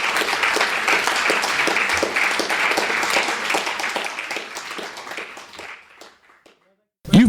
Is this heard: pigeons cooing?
no